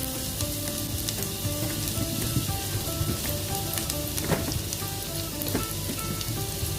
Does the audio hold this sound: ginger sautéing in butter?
yes